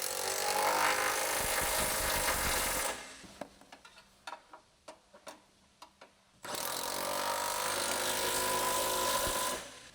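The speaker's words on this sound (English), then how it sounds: "Using the large 18mm short socket with the large electric impact wrench, tighten the front bushing retaining bolt." A large electric impact wrench drives an 18mm socket to tighten control arm bushing bolts on a Ford Focus ST, loud sustained grinding bursts on either side of a quieter stretch of sharp clicks and taps.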